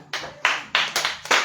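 A church congregation at a prayer and healing service claps in acclaim to Jesus Christ, a handful of sharp, close hand claps landing in an uneven quick rhythm.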